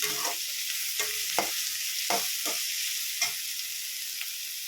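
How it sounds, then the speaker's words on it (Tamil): Onions sautéing in oil for a tomato thokku, a constant close hiss of frying broken by repeated spatula scrapes and stirring clicks at irregular intervals, with no talk. "வெங்காயம் வதங்க ஆரம்பிச்சிட்டு"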